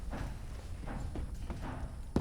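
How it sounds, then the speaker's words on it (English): Horse hooves walking in a video game give a steady, rhythmic clip-clop, fairly close and even-paced over a muffled rumble. "Okay, my horse is getting closer."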